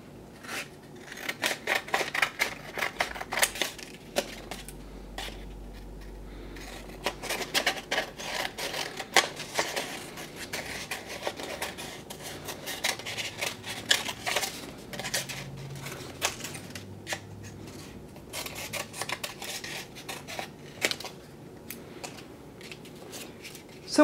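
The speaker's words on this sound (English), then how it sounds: "I want to go ahead and cut this off so I can do the leg" Scissors snip through paper cut-outs in quick, repeated crisp clicks and rustles, close up, with short pauses between bursts of cutting and occasional paper handling.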